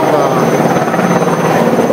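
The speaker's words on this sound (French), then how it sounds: "On rajoutera le bruit d'hélicoptère." Helicopter rotor and engine noise, a loud steady broadband roar near a new siren alarm on the Bel Air tower, continuous throughout with no pause or fading.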